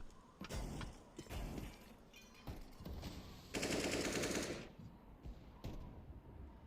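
Rapid automatic rifle sprays and single shots ring out in a Counter-Strike match on Nuke, loud bursts with a sustained volley in the middle and scattered shots around it.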